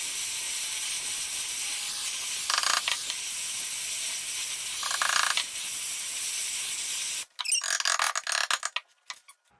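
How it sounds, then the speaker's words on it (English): A cutting torch flame, used in fabricating a custom OM606 header for a Cummins turbo swap, hisses loudly and steadily up close for several seconds before cutting off, leaving a few scattered clicks and taps. "I'm gonna go put the cutting torch end on because"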